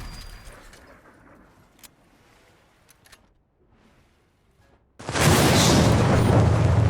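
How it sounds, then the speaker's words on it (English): A video game explosion erupts suddenly after a quiet stretch of faint scattered sounds, becoming a loud, sustained roaring blast that fills the rest of the moment. "Well, I thought that was a pretty cool explosion."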